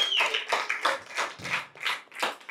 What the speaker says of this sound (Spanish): Vamos a darle un fuerte aplauso al cumpleañero.